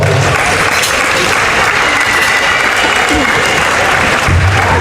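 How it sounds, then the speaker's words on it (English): A crowd applauds exhibitors leaving the show ring at a county fair event center, with steady, fairly loud clapping mixed with background voices and room noise throughout. "Nice round of applause."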